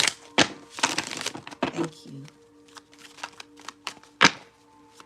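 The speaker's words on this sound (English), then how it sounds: "This is the only deck I can shuffle." A deck of tarot cards is shuffled in a series of quick, sharp riffling bursts and taps, mixed with a few brief spoken words nearby.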